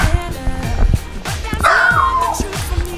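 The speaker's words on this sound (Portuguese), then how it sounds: "Cala a boca, cala a boca, cachorro feio." A dog barks repeatedly at close range in short, sharp yips, with a rising whine partway through and no steady rhythm between the barks.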